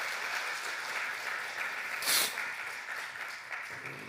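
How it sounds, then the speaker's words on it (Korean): Steady applause from a church congregation at a Sunday service, a dense wash of claps throughout with a brief louder burst midway, fairly distant in a reverberant room. "우리 인사할 때 크게 박수 한번 합시다."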